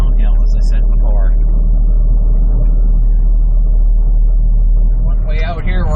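A GMC Topkick hooklift truck rolls down a driveway onto a dead-end road, its engine a loud steady rumble heard from the cab, and a voice talks over it near the start and end.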